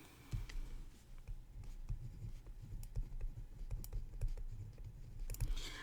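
A math solution being written out by hand during a differential equations lesson: quiet, close scratching strokes and irregular light taps spread over several seconds, with no speech.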